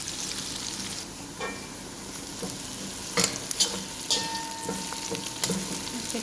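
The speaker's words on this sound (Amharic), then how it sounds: "ሽንኩርታችን በደንብ ቀይ እስከሚሆን ድረስ እናቆላለዋለን ማለት ነው።" Two medium onions sizzle and fry in a pan while being stirred for a kabsa dish, with steady crackling and repeated scraping stir strokes up close and no talk.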